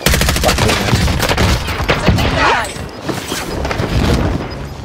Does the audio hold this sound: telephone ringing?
no